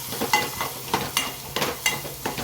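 A dal tempering of coriander-cumin powder, turmeric and salt fries in a pan, stirred in quick, regular scraping strokes over a light, continuous sizzle.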